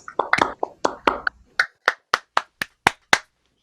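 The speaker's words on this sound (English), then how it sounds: "let's give those awesome students a round of applause" Claps from an unmuted online audience for students at a virtual concert: irregular overlapping claps at first, then a steady run of single claps spaced evenly apart, close and dry.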